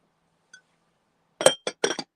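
Pressed-glass Indiana hen-on-nest dishes clink together while being handled: one faint tap, then a quick close cluster of four sharp glassy clinks.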